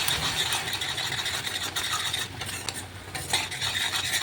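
A spoon stirs a thick mix of coconut, jaggery, milk and rice flour in a pan for patishapta filling, making quick, continuous scraping and rubbing sounds over a faint sizzle, up close.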